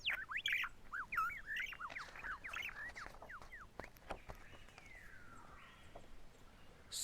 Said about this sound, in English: A quiet lullaby of twitters and whistles.